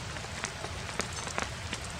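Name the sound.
steady rain falling on a tarp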